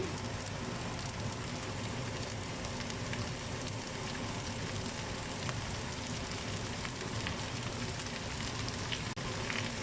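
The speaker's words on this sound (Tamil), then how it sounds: "இங்கே பாருங்கள், நான் வதக்கி தான் பார்க்குறேன்." Chopped broad beans sautéing in a pan, a dense, even crackling sizzle that holds steady throughout, close and continuous, with no voices.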